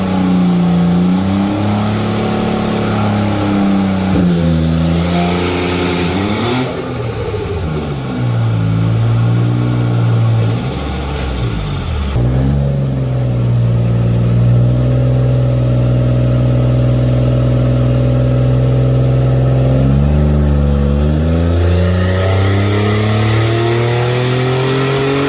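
A turbocharged 2006 Nissan 350Z with HR engine and a crackle tune runs on a dyno, its engine droning loudly and continuously while climbing and dropping through repeated revs, with pitch sweeps and steady high-rpm stretches lasting over twenty seconds.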